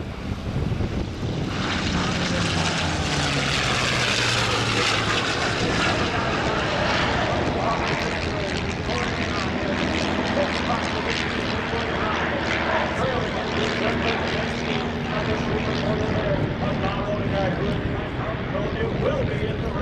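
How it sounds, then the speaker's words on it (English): Unlimited propeller racing airplanes, including a P-51 with a Rolls-Royce Merlin Packard engine and two with round air-cooled engines, roar past continuously at Oshkosh, Wisconsin, a loud, throaty drone staying strong throughout, with a voice talking underneath. "2 with round air-cooled engines and Jimmy Leeward in the P51"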